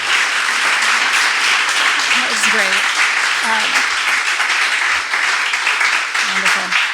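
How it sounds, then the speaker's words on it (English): An audience gives a panel a long, sustained round of applause, loud and even throughout, with a few voices speaking briefly over the clapping. "Can we give a round of applause for our wonderful panel?"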